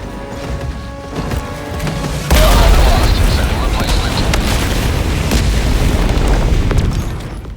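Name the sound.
HE barrage explosions in a video game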